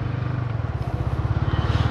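A motorbike carrying two riders, its engine giving a close, pulsing low throb at a steady rapid rhythm, loud and continuous.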